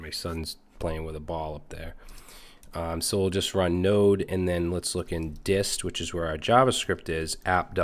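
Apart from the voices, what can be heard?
No everyday noises stand out.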